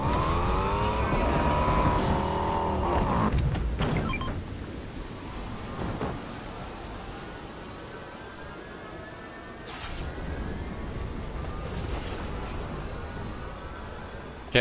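A car driving in the video game Fortnite: a loud revving engine with rising and falling pitch sweeps at the start, then a steadier rolling engine hum and road noise, with a few bumps and tire sounds.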